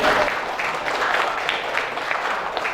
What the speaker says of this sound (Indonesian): Oh, tepuk tangannya.